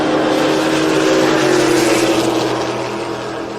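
Drag racing cars, an Oldsmobile Cutlass and a 1962 Chevy Nova Gasser, roar loudly down the strip together in a sustained, high-revving blast that eases slightly toward the end.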